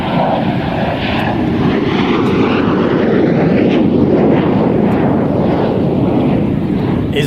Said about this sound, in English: Isn't that just the most wonderful aircraft?